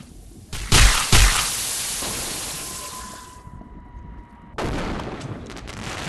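Gunshots from the VR game Animal Company ring out as two sharp, loud cracks close together, each trailing into a long noisy decay, followed by another burst of noise a few seconds later.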